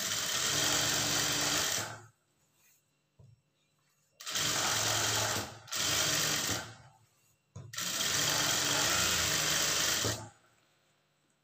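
A sewing machine stitches a blouse lining seam in three loud, steady whirring runs of about two seconds each, separated by short quiet pauses, with no talk.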